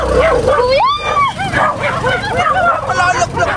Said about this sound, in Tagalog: Medyo nakakatakot lang sa lugar na to kasi napakaraming aso.